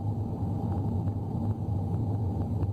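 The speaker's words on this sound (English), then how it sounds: "A little bit of road noise coming in from the tyres, but nothing more than you'd expect" Steady low tyre rumble and road roar inside a 2014 Audi A3 1.4 TSI S-Tronic automatic on the move, a continuous even drone with no talking over it.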